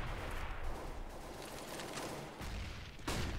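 Gunfire from a competitive CS:GO match on Dust 2, a busy run of overlapping shots with a sharp crack near the end over a constant wash of game noise, including a scout sniper rifle shot.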